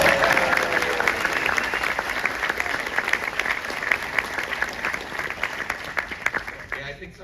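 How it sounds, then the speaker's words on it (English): Audience applause for a 70th birthday aboard a Disney Cruise Line transatlantic crossing, steady dense clapping from a sizeable crowd that keeps going for about seven seconds, then thins out and scatters at the end. "give her a big round of applause for that 70th birthday"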